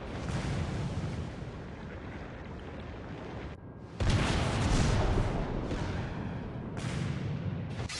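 A torpedo hit on a warship in World of Warships: a loud, broad rumbling blast that drops away, then a second heavy boom around the middle, with lingering low roar and churning water-like noise.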